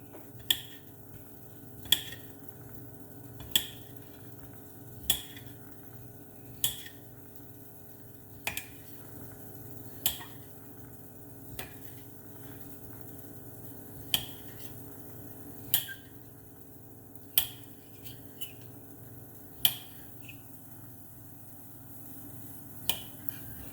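A knife slices kielbasa sausage on a cutting board into 1 to 1.5 inch pieces, in sharp, evenly spaced taps about one every second or two, close and fairly quiet.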